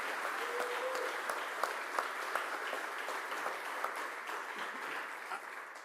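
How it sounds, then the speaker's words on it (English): A crowd at a political rally in Philadelphia applauds, a fairly quiet, steady patter of clapping from many hands with a few sharper claps standing out, somewhat distant, with no talking over it. "Give a round of applause for Sam T."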